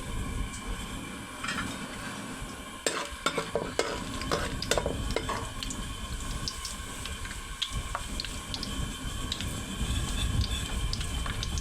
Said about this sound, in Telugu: ముందుగా పచ్చిపప్పు వేసుకోవాలి